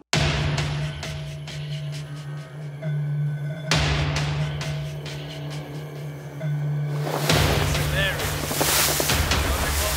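A seaplane racing a boat around an island across choppy sea waves: steady engine drone with wind buffeting and rushing water spray, louder surging wash in the final seconds, no talk.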